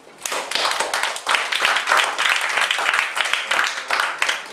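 An audience claps together in a meeting hall, a dense, lively burst of applause that starts quickly and keeps going steadily all the way through.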